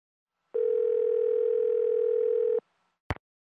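Telephone dial tone after a call cuts off: a steady, loud single tone holding for about two seconds and then stopping abruptly, followed by a brief click.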